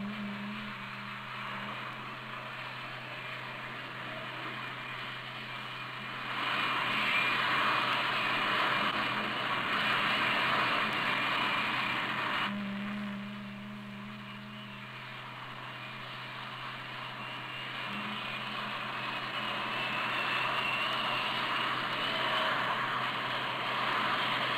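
Blue Angels jet planes' engines roar steadily at an air show, a broad loud rumble that swells louder midway and again toward the end, with no talking.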